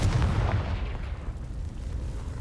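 A Confringo blasting spell explodes in Hogwarts Legacy, heard as a loud, deep booming burst that rumbles and fades over a couple of seconds, with no speech.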